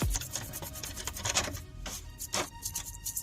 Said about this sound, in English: See how easy the rust's coming off? And leaving a perfect metal.